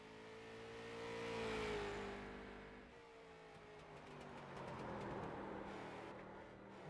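Race car on the Bullring dirt track in winter shootout practice, engine droning and swelling as it accelerates through the corners and down the straight, steady and fairly distant with no talk.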